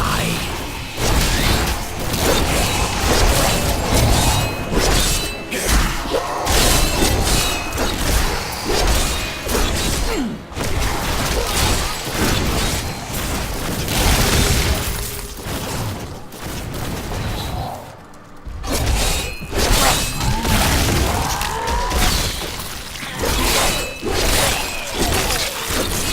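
Diablo III combat with repeated corpse explosions tearing through a mass of enemies, a dense, loud barrage of bursts, whooshes and crashing impacts running almost continuously, with a brief lull near the end.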